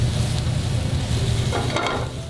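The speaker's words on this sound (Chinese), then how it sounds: "红喜菇、秀珍菇下锅拌炒，不一会儿大明虾登场" Food sizzles and crackles in a hot pan while something is stirred through it, with a steady frying hiss and occasional scraping bursts.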